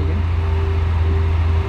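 Lamborghini Veneno Roadster engine held at a steady high rev around 5,000 rpm, a loud droning tone that stays constant before dropping off at the end, with no voices.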